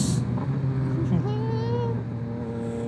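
A 2024 Yamaha XSR900 with a flashed ECU and a baffle-less Kelpi Shorty exhaust revs briefly, its engine note climbing and falling beneath someone talking over the steady road noise.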